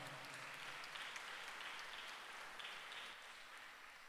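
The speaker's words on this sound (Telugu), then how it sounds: "అందరం గట్టిగా చప్పట్లు కొట్టి" Congregation applause in a church during a novena service celebrating Mother Mary's birthday, a faint, even wash of clapping sustained for about four seconds, distant and without talk over it.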